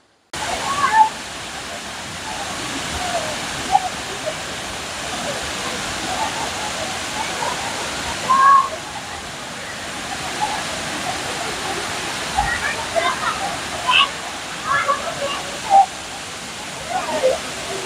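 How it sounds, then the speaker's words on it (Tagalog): Tinago Falls pours in a steady, loud rush of falling water, heard up close, while people talk faintly over it. "Ang ganda ng falls"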